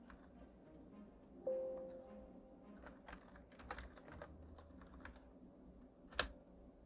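Quiet typing on a computer keyboard while opening Jupyter Notebook from a command line, scattered soft key clicks with one sharper tap near the end, close and alone.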